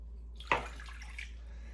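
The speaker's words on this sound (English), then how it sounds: "So 1 cup of lukewarm water." Lukewarm water is poured into a bowl while making tostada dough: a short splash followed by a brief trickle. It is quiet and close, with a low steady hum underneath and no speech.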